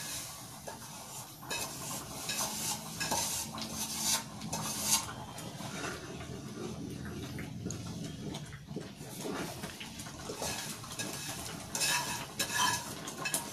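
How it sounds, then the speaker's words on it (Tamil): Steady stirring and scraping of rava roasting in ghee in a pan, continuous spoon strokes with soft sizzling, close and moderately loud with no talking. "நெய்யில ரோஸ்ட் ஆனது நல்லா வாசனை வர ஆரம்பிச்சிட்டு"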